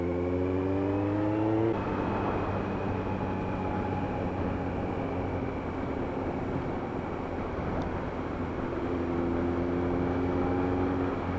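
A Kawasaki Z900 motorcycle being ridden, with an engine tone that climbs and then drops at a gear change. A steady engine drone and road and wind rumble follow, heard continuously from the rider's position.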